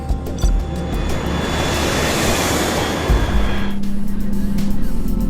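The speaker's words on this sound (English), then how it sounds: "The Airbus A330 is powered by 2 Rolls-Royce Trent 700 engines" Airbus A330 airliner with twin Rolls-Royce Trent 700 engines in flight, a steady broadband roar that holds throughout, with a faint drifting hum in the second half.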